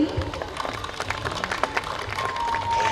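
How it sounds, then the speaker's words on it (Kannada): An audience at a stage event claps for a five-member foundation team. The applause is scattered and moderately loud, with a murmur of crowd noise and a thin whistling tone. "ನಮ್ಮ ಐದು ಜನರಿಗೊಮ್ಮೆ ಜೋರಾದ ಚಪ್ಪಾಳೆ ಬರಲಿ"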